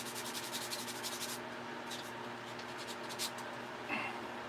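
Light hand sanding of a wooden flower-vase woodspirit sculpture, steady close rasping strokes in quick bursts with a brief scratchy pause, no talking.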